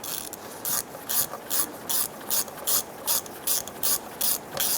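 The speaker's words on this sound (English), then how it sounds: "Snug down the bolts for your valve body." A ratchet clicks in quick, even bursts of about a dozen strokes while snugging down valve body bolts on a Chrysler 300 transmission, close and clear with no talking.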